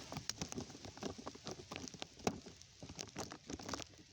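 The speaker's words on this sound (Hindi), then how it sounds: "बड़ी बारिश जोर नाल हो रही है।" Heavy rain falling outdoors, a faint irregular patter of drops on surfaces with scattered sharper hits and no voices.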